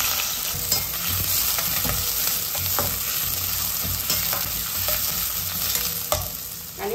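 Lengthwise-sliced onions, added after mustard seeds and fennel, hiss and sizzle steadily in hot oil for Bombay chutney, with repeated scraping clicks of a spoon stirring the pan, close and continuous.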